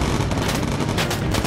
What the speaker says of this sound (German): Ah, die Flugabwehr müssen wir aufpassen.